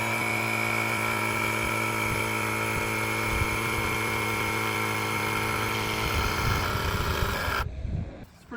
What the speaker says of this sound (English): I'd say it works pretty good as a bike tire inflator